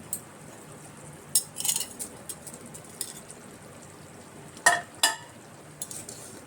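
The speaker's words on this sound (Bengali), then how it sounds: "এবার আমরা পনিরগুলো সব ঢেলে দেবো এর মধ্যে" Paneer pieces go into a pan of simmering masala, with scattered metallic scrapes and clinks of a utensil against the pan over a soft background hiss, the loudest knocks near the end.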